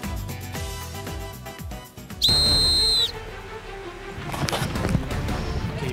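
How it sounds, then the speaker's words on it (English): A loud, sharp referee's whistle on a game-show challenge blasts once for about a second to start a team race, set among splashing, clattering noise and movement. "On my whistle."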